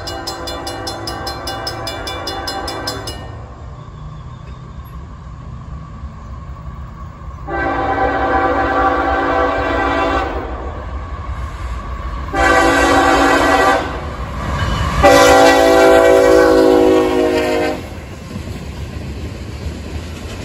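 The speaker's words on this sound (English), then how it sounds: "CSX L457 as he thundered his way across Go Down Road on his way from Walbridge" CSX L457 freight train crossing Go Down Road near Walbridge, its horn blowing in several long loud blasts separated by short gaps, the last blast longest, over the steady rumble of the passing train.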